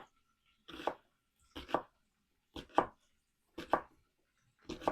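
A knife chopping onions on a board in five separate, evenly spaced strokes, close and crisp, with quiet pauses between them and no talk.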